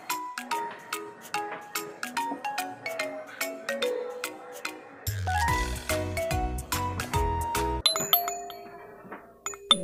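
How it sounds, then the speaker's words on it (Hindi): A phone ringtone plays a repeating chime melody of bright, tinkling tones, fairly close, with a faint voice briefly underneath. "तेरा फोन आया बेटा"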